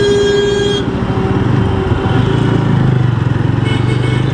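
A vehicle hooter blares loudly and steadily over rumbling engine noise at the Rash Behari traffic signal in Kolkata, heard up close from a motorcycle.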